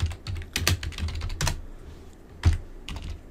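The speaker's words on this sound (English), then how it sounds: "if I can type the command right" Quick bursts of keystrokes on a computer keyboard as a command is entered at a command prompt, close and clear, with irregular clusters of taps and short pauses between them.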